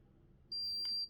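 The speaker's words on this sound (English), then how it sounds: "If you want the device to beep every time you take a reading" A Kinetik Wellbeing smart ear and forehead thermometer gives a single sustained high-pitched electronic beep lasting about half a second, clear and close over a faint background hiss.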